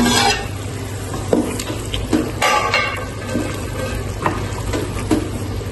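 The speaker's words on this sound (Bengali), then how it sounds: "ভালো করে চিংড়ি মাছের সাথে মশলাগুলো কষিয়ে নিব" Prawns stirred with spices in a hot frying pan, steady sizzling and bubbling with repeated scraping strokes of a spoon against the pan, close and fairly loud, with no voices.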